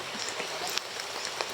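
Light drizzle falls outdoors as a steady, faint hiss of fine rain with a few soft drop ticks, even and continuous throughout.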